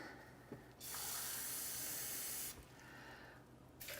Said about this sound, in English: put over 2 cups of water